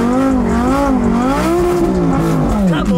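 A Lamborghini engine revs hard and close, its pitch rising and falling as it shifts gears, loud and continuous with no talk over it.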